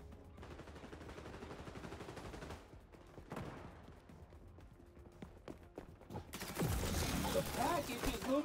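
Rapid bursts of automatic gunfire in the first-person shooter XDefiant, quick stuttering volleys that are fairly faint at first and louder and denser near the end, with a person talking over them.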